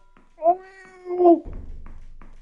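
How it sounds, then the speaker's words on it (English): House cat meowing up close, two drawn-out meows in a row, followed by a low rustle or thump. "You're the cutest kitty I've ever seen."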